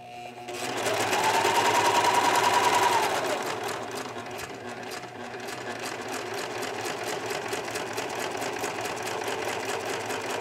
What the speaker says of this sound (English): It's really important when you're using a serger not to go over your pins, so be sure to take them out as you're sewing.